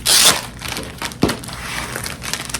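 A planner is pulled out of a plastic bag with loud crinkling and rustling of plastic up close, a sharp crackle at the start and another about midway, and no talking.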